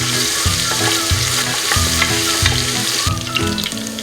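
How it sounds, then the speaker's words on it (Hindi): Ginger-garlic paste fries in onion-flavoured oil for a beef qorma, giving a loud, close, constant sizzle with rhythmic scraping stirs every half second or so, and no talking. "प्याज वाले ऑयल के अंदर ही मैंने अदरक लहसुन का पेस्ट डाल देना है और इसको थोड़ा सा फ्राई कर लेना है"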